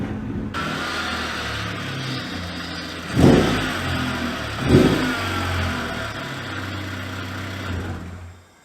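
A 1992 Honda Prelude engine, its scrapyard condition, revs loudly up close from a steady rumble, with two sharp throttle blips before settling and cutting off.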